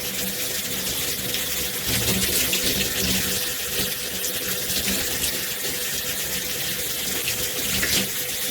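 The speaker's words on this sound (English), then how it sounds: "Make sure you're lifting hair up and, yeah, rinsing right at the roots." Hair being rinsed under a running tap, a loud continuous close rush and splash of water that stays steady throughout.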